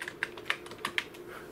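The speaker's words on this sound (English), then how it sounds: "by typing that port command" Keys clack in a quick uneven burst as a command is typed on a computer keyboard for an industrial PLC running CAMBASIC, about half a dozen close, fairly quiet keystrokes with no talking.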